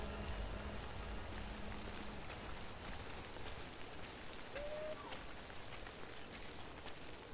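Steady rain in the video game Death Stranding on PS4 hisses evenly throughout, a soft constant patter with no voices over it.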